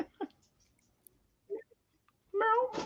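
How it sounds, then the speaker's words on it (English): A house cat meows a couple of times indoors, a short harmonic cry near the end after some faint earlier vocal sounds, fairly close and clear against a quiet room. "Oh, that was my cat too."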